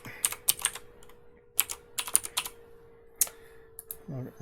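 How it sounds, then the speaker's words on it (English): A computer keyboard being typed on, sharp clicky keystrokes in short uneven clusters with pauses between them, heard up close over a faint steady hum. "If I can type it."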